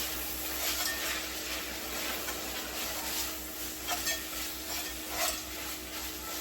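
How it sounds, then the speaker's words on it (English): Melting cream cheese is stirred into ground beef in a pot for a creamy hamburger soup, a close, steady scraping and squelching with a soft sizzle underneath and no talk. "Kind of mix it in here with the ground beef."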